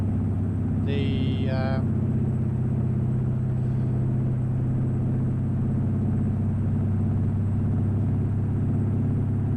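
A modded Kenworth W900 truck in American Truck Simulator, its engine and aftermarket exhaust holding a loud, steady low drone throughout, with a brief higher whine near the start.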